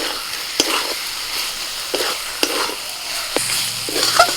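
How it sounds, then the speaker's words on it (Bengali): A spoon scrapes and taps rhythmically as a chicken and potato filling with chopped coriander is stirred in a pan over a soft sizzle, with sharp clicks every half second or so. "ঢাকা খুলে আমি নাড়াচাড়া করছি"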